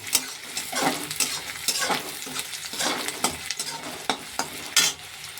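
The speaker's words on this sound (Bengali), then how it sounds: "খানিকটা পেঁয়াজ ভেজে নিচ্ছি চিকেনটাকে কষবার জন্য" Onions frying in a pan ahead of cooking marinated chicken, a close, crackling sizzle broken by repeated scraping and stirring strokes of a spatula against the pan.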